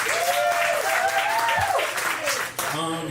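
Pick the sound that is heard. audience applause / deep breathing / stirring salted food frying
audience applause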